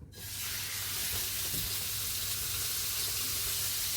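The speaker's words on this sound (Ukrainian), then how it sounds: "Сковорідочка зашкварчала." Pork frying in a pan gives off a loud, steady hiss and crackle that carries without a break, with no talk over it.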